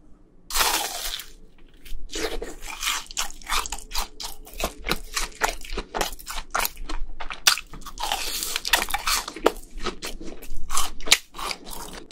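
Crunchy cheese balls bitten and chewed up close during a fried chicken mukbang, with repeated loud crisp crunches in an irregular chewing rhythm and no talking.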